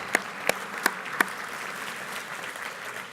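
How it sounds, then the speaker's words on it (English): Audience applause breaks out at a transportation summit luncheon, beginning with a few sharp, separate claps before settling into a steady, moderate wash of clapping from a large room. "Round of applause, yes."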